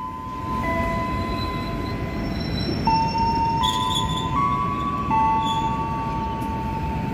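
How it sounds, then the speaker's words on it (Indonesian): The Cikuray passenger train rumbling into platform 2 at Cibatu station with a continuous low roar, overlaid by long tonal whistle-like squeals and a few metallic clanks. "Kereta api Cikuray masuk di jalur 2 stasiun Cibatu."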